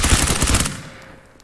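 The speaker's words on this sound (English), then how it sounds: "Everybody seems to be playing with full auto." Full-auto gunfire in the tactical shooter Ground Branch, a loud rapid burst of about a dozen rounds lasting under a second, then a decaying echo tail.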